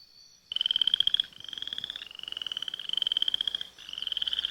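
Cane toads croak in the Cerrado, a fast pulsing trill that repeats in several long bursts one after another, loud and close, with no voices.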